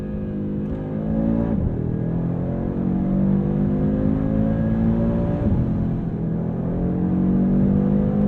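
A 2022 Audi RS3 engine drones steadily as it accelerates, pitch climbing through gears with brief dips at shifts, loud and continuous from inside the car.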